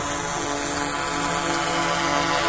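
A drone in flight over Glen Rock, New Jersey, produces a steady, dense propeller whir that fills the whole stretch, loud and unbroken, with no voices.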